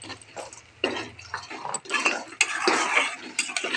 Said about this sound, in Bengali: এবার পটলগুলো আমি দিয়ে আর একটু ভালোভাবে কষিয়ে নেব।